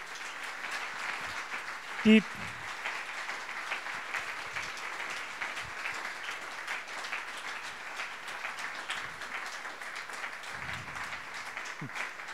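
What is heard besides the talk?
audience applause at a celebration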